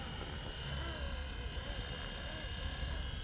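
Steady whine of a Flywing radio-controlled model helicopter's rotor and motor, hovering nearby at a constant pitch with a faint rising-falling tone.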